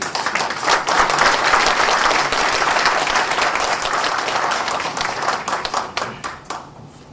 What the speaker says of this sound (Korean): 큰 박수로 맞이해주십니다.